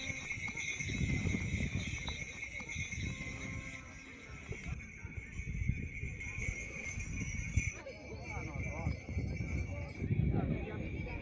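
Horses' hooves clip-clop at a moderate distance during a horsemanship exhibition at a Tibetan Plateau competition, with an occasional whinny, under background voices and ambient crowd noise.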